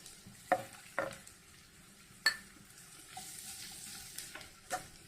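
Onions with coriander powder are stirred in a pan for fish molee, with quiet sizzling and several sharp spatula scrapes and taps against the metal.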